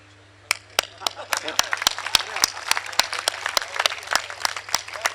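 An audience at a Hindi comic poetry gathering claps in a brisk, dense burst of applause with sharp, close individual claps standing out over a steady low hum.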